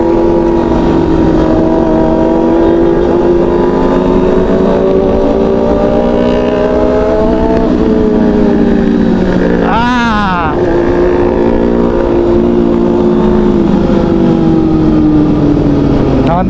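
Big bikes and underbone motorcycles rumble at a bike night in Dagupan City, Pangasinan, with a loud, sustained engine drone and a sharp rising rev about ten seconds in, voices audible beneath.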